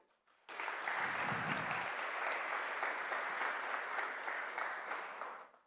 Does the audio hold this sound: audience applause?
yes